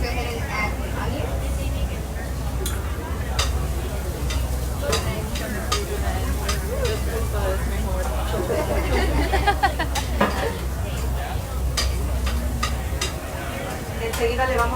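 Onion sizzles in oil in a pan with a continuous crackling hiss under steady talk and background chatter, with occasional utensil clicks against the pan.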